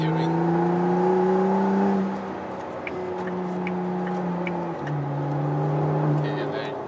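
McLaren Artura engine humming steadily from inside the cabin while climbing the road up Genting, the pitch stepping between gears at a moderate level with a faint ticking above it.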